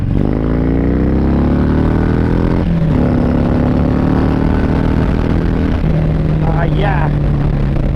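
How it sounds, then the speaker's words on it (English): A Harley-Davidson Sport Glide motorcycle fitted with an Outlaw 606 air cleaner pulls hard in second gear from about 50 km/h, its loud close engine note rising steadily, dropping briefly at a shift, then climbing again. "We'll do a pull in second gear here at about 50 kilometers an hour."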